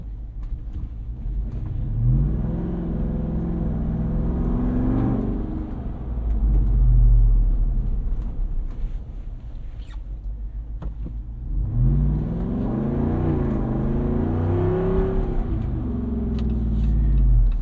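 2024 Jeep Wrangler 392 Final Edition Rubicon with a Hemi V8, its engine revving loudly in two long, deep rising pulls separated by a quieter idle stretch, with no talking.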